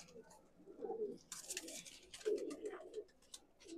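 Madrasi and Punjabi pigeons kept for sale give soft, low cooing calls in a few repeated bursts, close and quiet, with brief rustling between them.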